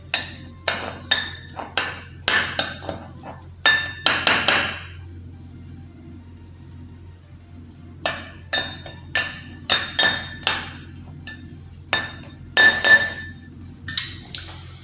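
A spoon mixes a thick lip scrub paste with coconut oil in a bowl, making repeated sharp clinks and taps in quick bursts, with a pause midway and no talking.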